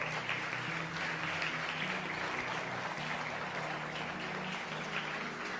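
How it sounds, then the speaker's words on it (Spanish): A church congregation claps steadily and loudly in praise during a Spanish-language sermon, a dense, continuous wash of many hands with a faint musical hum underneath and no talking. "Dale una ofrenda de palmas al Rey."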